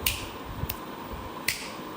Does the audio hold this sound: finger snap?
yes